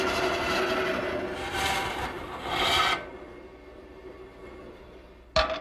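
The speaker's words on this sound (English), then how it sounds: "I've established a fence at my bandsaw, and the first thing I want to do is make the rip cut." A bandsaw rips lengthwise through a wooden rafter against a fence, giving a steady, close rasping cut that runs for about three seconds before easing into a quieter whir, then a sharp knock near the end.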